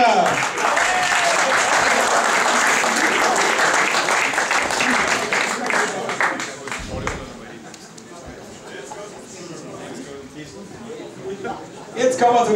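Crowd applauding at an outdoor stone-lifting contest, a loud sustained clapping that thins out midway while an announcer talks over it, then swells briefly again at the end.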